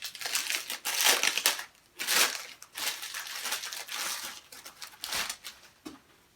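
Packaging for a Jende edition Hapstone V6 knife sharpener crackles and crumples in repeated close bursts as it is unwrapped by hand, with short pauses between handfuls.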